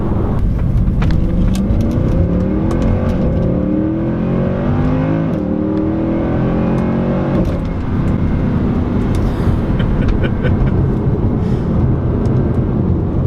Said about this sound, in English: got those nasty sounding upshifts